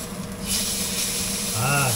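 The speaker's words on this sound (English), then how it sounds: "Getting a great sear on it here. Look at that sear." Steak searing in a hot pan gives a steady, close hiss and crackle of sizzling fat, heard under someone speaking.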